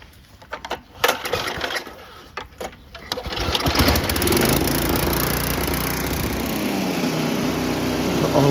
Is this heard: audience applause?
no